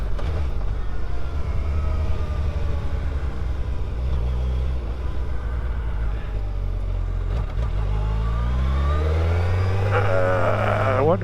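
Suzuki Hayabusa motorcycle engine heard while riding, a loud steady drone that dips and then climbs in a rising rev near the end, recorded close with no speech over it.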